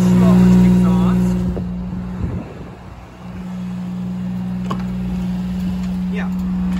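A 1996 Daihatsu Midget engine idling up close with a steady low drone, dipping briefly as it cuts out mid-clip, then a continuous rumble returns.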